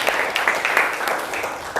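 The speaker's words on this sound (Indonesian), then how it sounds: "Beri tepuk tangan untuk kita semuanya." A short burst of scattered clapping from a small group of students in a classroom, brisk and close.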